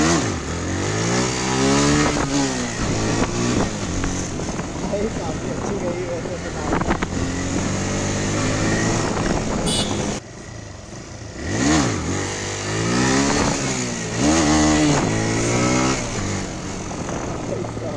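A motorcycle engine revs and surges repeatedly during an attempted wheelie, loud and close with rising and falling pitch, wind buffeting, and a rider talking over it.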